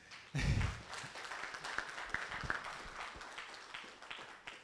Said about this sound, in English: I think we have a big round of applause to give to our guest speaker, Alex.